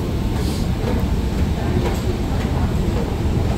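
An MRT train at Orchard station in Singapore, a loud steady rumble of the carriage rolling and rattling close by with constant rail noise and no clear pauses.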